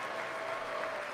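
Audience at a State of the Union address standing and clapping: dense, sustained applause from a large crowd, steady and fairly loud for the whole moment.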